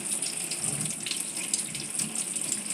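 Steady running water from a tap pours continuously while hair in locs is rinsed, a close, even hiss with slight splashing and no talk.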